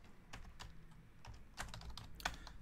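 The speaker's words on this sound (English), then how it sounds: "let's quickly type in all of the hits here" Quick, light keystrokes on a computer keyboard during a sports trading card box break, irregular clicks and taps close by with a few sharper louder hits and no speech.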